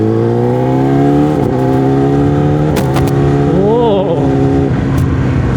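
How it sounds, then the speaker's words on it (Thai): A Yamaha R6 sport motorcycle screams along at speed, its engine holding a loud, high harmonic whine that rises and dips through quick throttle changes and shifts, close and continuous under wind noise. "อันนี้ขอไปซิ่งมอเตอร์ไซค์ก่อน"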